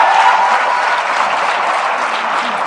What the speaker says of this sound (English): Ladies and gentlemen, a warm round of applause, please, for the panel.